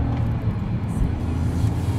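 Interior of a fast car being driven on a test drive, a steady low engine and road rumble filling the cabin, continuous and fairly loud with no talking.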